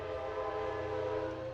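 A train horn blares in a sustained, steady tone, loud and unbroken over a low rumble, from a passing train near a high school football game at night.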